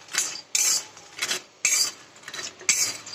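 Soybean chunks dry-roasting in a pan on low heat are pushed around by a utensil, giving a rhythmic series of gritty scraping strokes with short quiet gaps between them, close and moderately loud, no voices.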